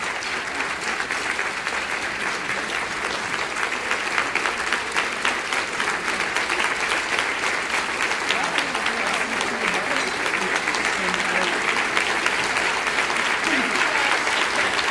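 Loud, sustained applause from an award ceremony audience, steady and unbroken throughout with a few cheers mixed into the dense clapping.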